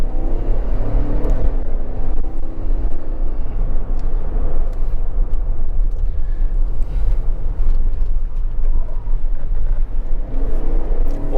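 A 2022 Chevrolet Tahoe, a nearly three-ton truck-based SUV, is pushed hard through a handling test on a not entirely dry road, giving a loud, steady roar of engine, tyre and wind noise throughout with no talking.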